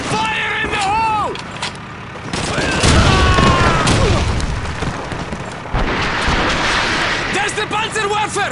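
Grenade blast in the World War II shooter Call of Duty 2, a heavy boom amid ongoing gunfire and battle noise, with soldiers shouting over it.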